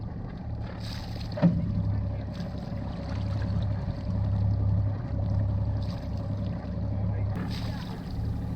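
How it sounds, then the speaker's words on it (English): A sailboat motors out of a marina against the wind, its engine a low steady drone with wind rushing across the microphone, while people talk over it. "We had to motor down against the wind and then we would sail back."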